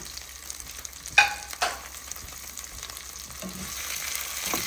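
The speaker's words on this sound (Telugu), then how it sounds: "ఇది ఇప్పుడు మంచిగా ఫ్రై అవ్వాలి." Vegetables for a vegetable curry fry in a pan with a soft, steady sizzle, broken by a couple of sharp clinks of a spoon against the pan early on; no one speaks.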